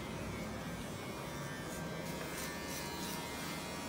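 Electric hair clippers buzz continuously and faintly while cutting hair during a mid fade haircut, a steady close drone with slight variations as the blade moves through the hair.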